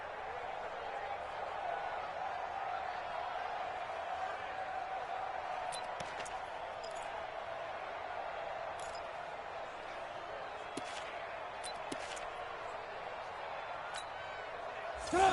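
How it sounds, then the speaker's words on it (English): A steady crowd roar fills the background like a distant stadium during a two-point conversion in a PS4 football video game, with occasional sharp thuds and clatters breaking through. "Listen to this crowd now."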